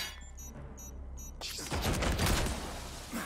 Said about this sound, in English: Oh, you have to shoot it.